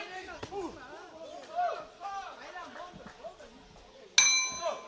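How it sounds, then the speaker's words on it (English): A boxing ring bell clangs loudly near the end to close a bout at a men's world championship in Dubai, ringing over a bustling crowd and commentary in a large arena. "there goes the bell, and that's going to be a win for the red corner"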